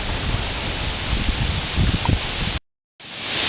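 Hurricane Sandy wind gusting with light rain, a dense steady rush close to the microphone, broken by a brief gap of silence before the roar returns.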